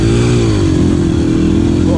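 A dirt bike engine runs loud and close, a steady buzzing drone with slight rising and falling revs throughout.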